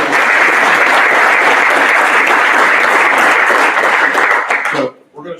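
An audience at a university research park and innovation district summit applauds the sponsors, a loud, dense burst of clapping that holds steady, then cuts off sharply near the end into near silence.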